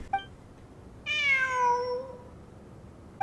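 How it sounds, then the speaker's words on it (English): A cat in Genshin Impact gives one clear, drawn-out meow that rises and then falls away, close and alone in a quiet scene, with faint short chirps at either edge. "It really is a cat."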